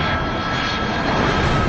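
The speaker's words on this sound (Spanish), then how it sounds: "El aparato es un MD-80." Steady, loud roar of an MD-80 jet airliner's twin rear-mounted engines at cruise, a dense broadband rumble with a faint tonal whine, continuous and unchanging throughout.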